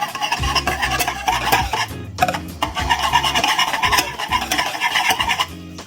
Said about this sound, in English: mix the butter and flour. Make sure the butter is hot.